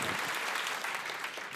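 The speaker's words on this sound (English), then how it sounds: "Please give them another round of applause." Audience at a live concert applauding featured artists, a steady dense wash of clapping from a crowd, continuous and fairly loud with no voices on top.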